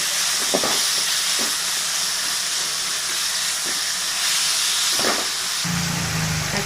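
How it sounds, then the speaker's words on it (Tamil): Tomatoes and curry leaves sauté in a pan over onions for a cauliflower curry, making a loud, continuous hissing sizzle broken by a few soft stirring knocks, with no voices. "தக்காளியும் லைட்டாக வதங்கணும்."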